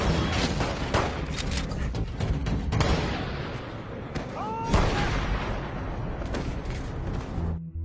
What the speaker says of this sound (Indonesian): Maka terjadilah kejar-kejaran dan baku tembak antara mereka.